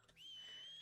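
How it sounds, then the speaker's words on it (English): A player whistles for a horse in the video game Red Dead Redemption 2: one short, clear, rising whistle that then holds steady, fairly faint and heard alone. "I have whistled you!"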